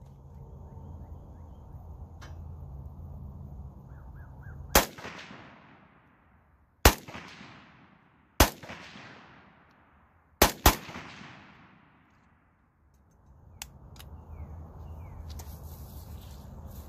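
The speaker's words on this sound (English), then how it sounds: "get out here and fire a couple shots just to show y'all that everything does function correctly" Four or five single AK-47 rifle shots ring out outdoors, each a loud sharp crack followed by a long fading echo and a couple fired in quick succession, with wind or ambient rumble between them.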